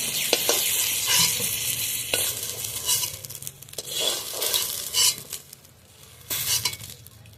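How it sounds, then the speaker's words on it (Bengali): Eggplant pieces frying in hot oil until reddish-brown, destined for a spicy fish-and-eggplant curry; a steady close sizzle with repeated stirring scrapes and occasional utensil clinks against the pan, no talking. "বেগুনটা আমি ভালোভাবে লাল লাল করে ভেজে নিয়েছি"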